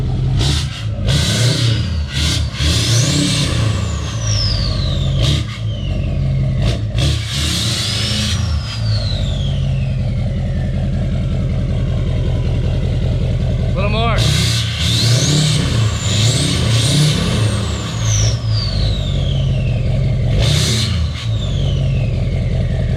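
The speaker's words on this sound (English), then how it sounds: "Rev it a little bit." A tuned GMC Denali truck engine sits at a deep idle and is revved repeatedly, each rev swelling loud and close before dropping back, while people talk briefly over it.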